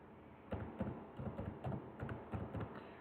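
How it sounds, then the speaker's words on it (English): Someone types on a computer keyboard entering numbers into a Microsoft Excel spreadsheet, giving a run of soft, close keystroke taps in small irregular bursts over a low steady hum, with no talking. "Normally when you type the number,"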